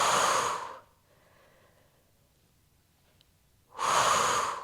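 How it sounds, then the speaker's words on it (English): During a Pilates workout a person takes a loud, close exhale, followed by a few seconds of quiet before another strong breath comes in. No one speaks. "Keep breathing."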